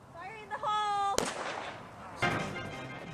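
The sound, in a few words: explosion set off in gopher hole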